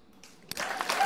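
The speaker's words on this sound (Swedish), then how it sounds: "Ni får applådera er själva" Audience applause at a charity gala for the Swedish Childhood Cancer Foundation, rising suddenly out of near quiet into a full burst of clapping from a large crowd.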